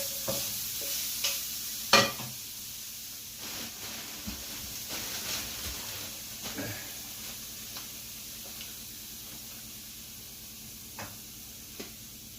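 Bacon sizzles in a hot pan with a little beef fat, a soft steady crackle and hiss with a few sharper pops and clinks near the start, fairly quiet and close, without speech.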